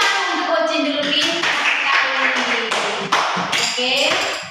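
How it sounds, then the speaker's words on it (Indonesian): Children in a primary school classroom clap their hands together in a dense, sustained burst of applause lasting several seconds, mixed with voices and excited chatter. "Oke, tepuk tangan untuk Ocin dulu nih"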